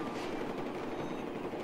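Continuous gunfire from a first-person multiplayer video game, a dense and fairly faint rattle of shots with no talking over it.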